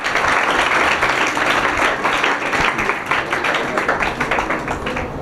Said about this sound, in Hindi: आप लोग तालियां मारना शुरू कर दिए